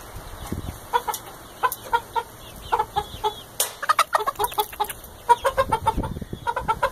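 A hen clucks repeatedly in short, uneven bursts, fairly close, over a quiet background with faint farmyard hiss.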